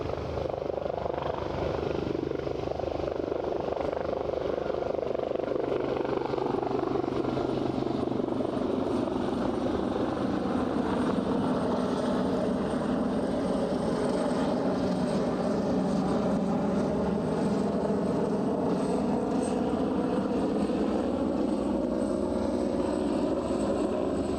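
An aircraft on approach to Aberdeen airport drones in a continuous loud engine roar with a slowly shifting whine across the whole stretch and no pauses.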